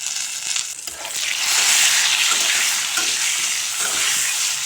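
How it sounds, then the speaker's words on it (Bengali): Sliced eggplant fries in hot oil in a wok with turmeric powder and a pinch of salt. A loud, steady sizzle runs throughout, mixed with scraping and stirring sounds close up and no voices. "হলুদ গুঁড়ো আর সামান্য লবণ দিয়ে বেগুন নেড়ে চেড়ে ভেজে নেব।"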